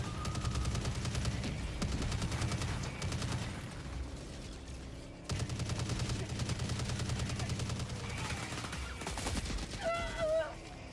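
Sustained automatic gunfire in a first-person shooter video game, dense rapid bursts rattling continuously for several seconds with a brief break midway, with a few faint electronic tones near the end.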